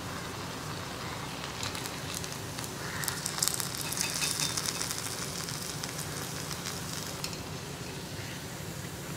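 Uzhunnu vada, urad dal fritters, fry in oil with a continuous soft sizzle and crackle, a little brighter midway, no talking over it.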